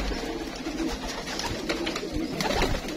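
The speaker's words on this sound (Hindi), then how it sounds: "माशाल्लाह, ये फकीर गुल कबूतर।" A flock of pigeons keeps up a low, continuous cooing nearby, soft throaty calls rising and falling without pause.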